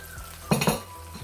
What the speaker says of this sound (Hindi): थोड़ा सा इसमें मैं ये पानी डाल दूंगी जिसमें मैंने टमाटर डाले हुए थे।